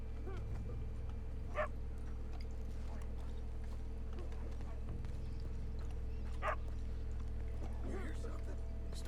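A dog in Red Dead Redemption 2 gives two short, distant-sounding barks several seconds apart over a steady low hum of outdoor game ambience.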